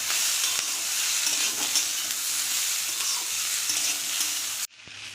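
Cumin, ginger and coriander paste with chilli powder being sautéed in a pan for a prawn and kohlrabi-stalk curry, a dense continuous sizzle with faint stirring, cutting off abruptly near the end.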